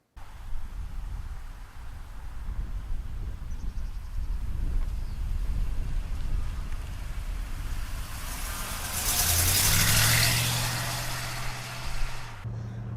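A 1965 Pontiac Grand Prix with a 389 V8 cruises along the road, a steady low engine drone heard from inside the car under road and wind noise, swelling briefly toward the end.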